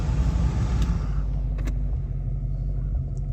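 A 1994 convertible with a newly installed brake booster and master cylinder rolls to a stop, its engine idling as a steady low rumble that eases slightly as the brakes catch.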